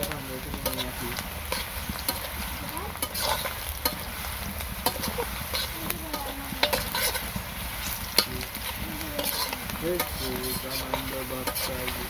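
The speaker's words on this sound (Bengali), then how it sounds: "এখন পেঁয়াজ ভাজা হয়ে গেছে" Fried onions stirred in a pan make a steady sizzle, broken by repeated close scraping and clattering strokes of the spoon, with a voice talking intermittently underneath.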